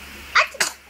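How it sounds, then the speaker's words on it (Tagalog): A single short sneeze bursts out close and loud, followed by a brief second puff of breath, in an otherwise quiet room. "Lagi na lang video mo, may bahing ka palagi."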